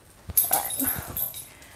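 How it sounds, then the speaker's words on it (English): A dog whimpers and squirms close by, with a few short high whines and yips over soft rustling movement, brief and fairly loud. "now I need to put my dog away because he's being a little squirmy bugger"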